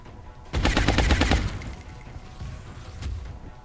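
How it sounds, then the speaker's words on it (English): A rapid automatic burst of gunfire in XCOM: Enemy Within, loud and close for about a second, trailing into rumbling debris and a fainter second shot. "I will shoot him again"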